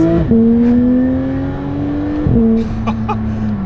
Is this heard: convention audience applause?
no